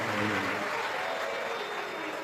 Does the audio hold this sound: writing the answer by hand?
no